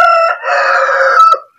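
A free-range village rooster crows once, loud and close, a bright drawn-out cock-a-doodle-doo with a short break early on before the final note trails off into silence.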